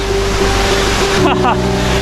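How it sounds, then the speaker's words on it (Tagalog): Rushing water of Matigol Falls on Mount Matigol in Arakan, Cotabato, heard as a steady broadband roar close by, with a brief voice breaking in partway through. "maririnig mo na ang lagaslas ng tubig ng Mount Matigol."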